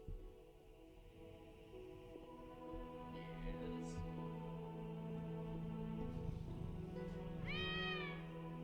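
A house cat gives a clear, close meow near the end, over a steady background of game music and ambient tones.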